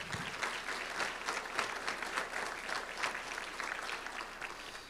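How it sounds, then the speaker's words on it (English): A school board meeting audience gives a round of applause for the board members, dense, even clapping from a crowd lasting the whole stretch without speech. "Please give these folks a round of applause."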